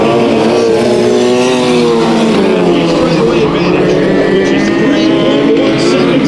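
Dirt track race cars roar through the close of a heat race, a dense, loud engine drone sustained throughout, with a commentator talking over it.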